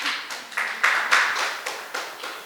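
A church congregation at a Sunday service clapping hands together, a short burst of loose, rhythmic claps heard from a moderate distance without any talk.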